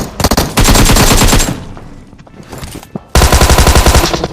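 Rapid automatic gunfire from a video game, loud and close, in two long sustained bursts with a short quieter gap between them and no talking.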